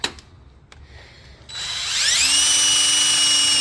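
A power drill runs up and whines steadily as its bit bores into a hole, starting after a few faint knocks and settling into a loud, sustained high-pitched tone.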